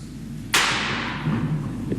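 One sudden loud bang, like an accidental gunshot, cuts into a French news debrief broadcast from 2017. It hits hard and leaves a long fading tail over a low background hum.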